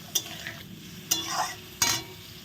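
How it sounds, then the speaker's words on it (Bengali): Ground turmeric, coriander and chili powder sauté with a splash of water in a pan for a cauliflower dish, heard as a low sizzle punctuated by three sharp spatula scrapes close up. "মশলাটা দিয়ে আমি একটু জল দিয়ে দিলাম কষানোর জন্য এখন এখানেই কষানো হোক"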